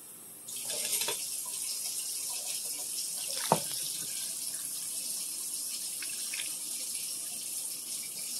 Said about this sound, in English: I'm going to add the water around the rim of the cheese.